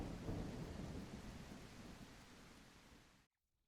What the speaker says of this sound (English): But the rain and the thunder does sound fantastic.